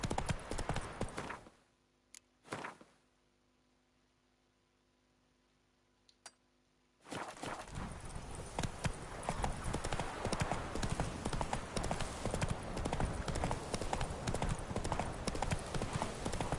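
Roach the horse galloping in The Witcher 3: rapid rhythmic hoofbeats that stop for a few seconds of near silence, then resume loud and continuous to the end.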